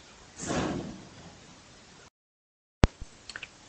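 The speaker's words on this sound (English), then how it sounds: "maybe I'll just shut the door" A door slides along and then shuts with a sharp slam, followed by a few lighter knocks and rattles, close by in a quiet indoor room.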